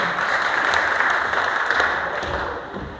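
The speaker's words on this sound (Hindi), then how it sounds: "जोरदार तालियां भाई के लिए" A crowd gathered for a workplace safety day event applauds with steady, dense clapping that tapers slightly toward the end.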